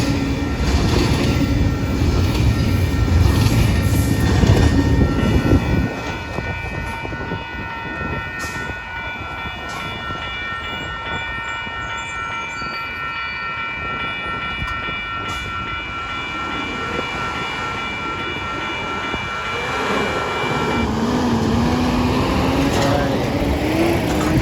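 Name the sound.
train passing on railway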